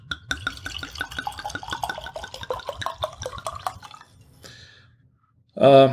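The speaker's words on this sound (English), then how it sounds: "Let me go ahead and pour this." Wine poured from a bottle into a Cooper's Hawk crystal wine glass, a close, steady gurgling and splashing stream with rising pitch lasting about four seconds, then a brief lull before a short, loud burst near the end.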